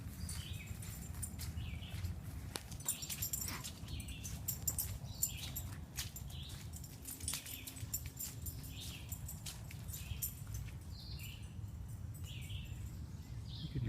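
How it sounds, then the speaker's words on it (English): Several birds chirp and call repeatedly in muggy woods on a nature walk, over a steady background hiss with occasional rustling; no speech. "You can hear some birds going crazy."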